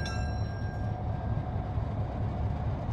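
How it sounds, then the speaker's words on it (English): Train 206 of the Allentown & Auburn Railroad couples with its railroad cars, a steady low rumble of idling locomotive and rail equipment continuing throughout with faint high whine tones, no distinct clank standing out. "206 is coupling with the train cars for the ride today"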